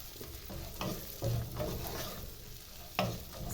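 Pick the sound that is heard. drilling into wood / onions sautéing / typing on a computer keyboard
onions sautéing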